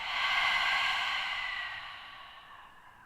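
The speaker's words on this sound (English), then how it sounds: "Nice strong exhale out." A long, airy exhale through the open mouth during an energizing morning yoga session, starting fairly strong and fading gradually over about three seconds, heard alone.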